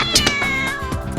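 A cartoon cat in an animated children's story gives a loud, close meow, one drawn-out call with a wavering, slightly yowling tone and nothing else around it.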